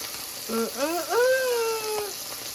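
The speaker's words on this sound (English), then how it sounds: "Just listen to that sizzle." Steady frying sizzle crackles in the background while a voice speaks over it with rising and falling intonation.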